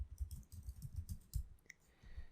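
Close, quiet clicking of computer keyboard keys in a quick irregular run, followed by a single sharper keystroke like pressing enter, then a short pause before a few more faint taps.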